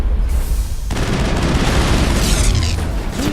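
A rocket explodes in Mass Effect. A loud, close blast booms and rolls on as a sustained rumble with crackling debris, with no talking over it.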